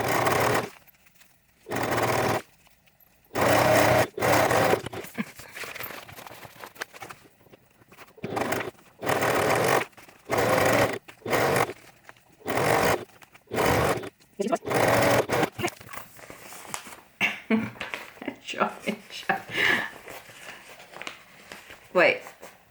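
Sewing machine stitching bag panels together, repeated short bursts of whirring separated by pauses, close, with speech during the later part.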